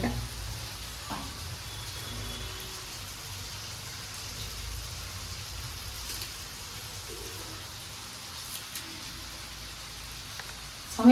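Garlic, cumin, pepper, dried red chillies and curry leaves frying in hot oil for a simple rasam, a steady soft sizzle holding for the whole stretch, close and moderately quiet, with a louder burst at the very end.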